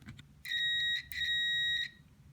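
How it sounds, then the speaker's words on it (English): A multimeter beeps during a continuity test while checking soldered pins, giving two steady electronic tones in quick succession, the second slightly longer, clear against a quiet room. "So we get a beep."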